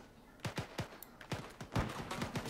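40 mm grenade launcher fire in the video game Arma 3, with a run of sharp, close reports and booms in quick irregular succession, some overlapping toward the end.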